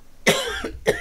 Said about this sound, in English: I'm going to keep coughing.